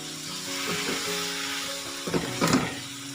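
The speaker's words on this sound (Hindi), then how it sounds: "इसको शामिल करके इसको चिकन के साथ हम अच्छे से इसको पका लेंगे, फ्राई कर लेंगे" Chicken with black pepper fries in a pan, a soft steady sizzle under a faint hum, broken by a few louder stirring clatters near the end.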